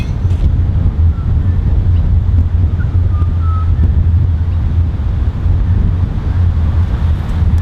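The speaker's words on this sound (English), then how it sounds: "there was a big gust. It almost blew me backwards." Strong wind buffets a microphone on an open golf course, a heavy, constant low rumble that stays loud and steady for the whole stretch, with no voices heard.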